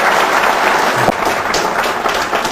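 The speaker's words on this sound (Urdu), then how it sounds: "ایک زوردار تالی ڈاکٹر عارف صدیقی کی." Audience clapping for Dr Arif Siddiqui at an Al Hayat Group company event, a loud, dense burst of applause from a crowd that carries on steadily and begins to thin slightly toward the end.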